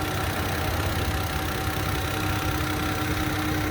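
A 2015 Volvo V60 T6 R-Design's turbocharged six-cylinder engine idles smoothly and steadily, a constant low hum with no talk over it.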